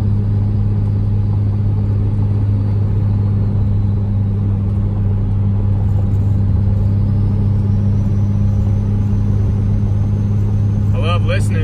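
Cummins 5.9 diesel truck towing a loaded U-Haul trailer, a constant heavy low engine drone and rumble heard steadily throughout from inside the cab, loud and unbroken.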